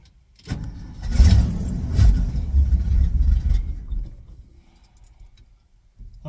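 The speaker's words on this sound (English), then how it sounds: "fires right to life if you have a little bit of fuel in the carb" An old Ford farm truck engine cranks and fires up, with a short grinding start building into a loud, rough, low rumble that runs for a few seconds and then settles and fades.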